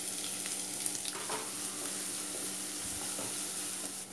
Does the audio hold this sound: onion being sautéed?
yes